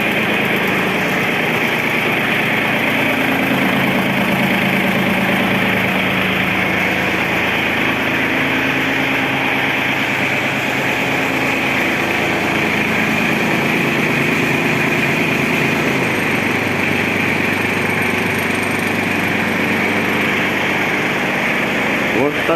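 An ISEKI SIAL223 Japanese mini tractor with a snow blower attachment runs at a steady, even idle, its loud continuous engine drone close by for the whole stretch, with someone talking over it.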